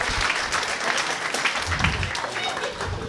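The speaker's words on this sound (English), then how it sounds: "Put your hands together and welcome to the stage the wonderful," A comedy club audience breaks into sustained, dense applause as a comedian walks onto the stage, with cheers and a voice mixed in over the clapping.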